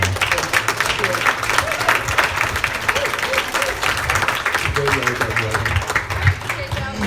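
Guests at a retirement party give a sustained round of applause, many hands clapping steadily and loudly for several seconds, with some crowd voices mixed in.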